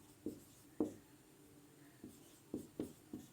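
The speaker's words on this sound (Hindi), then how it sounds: "हिंदी में लिख दूं" Faint pen or chalk strokes of handwriting during a physics lesson, a handful of short scratchy taps and strokes spaced irregularly in a quiet room.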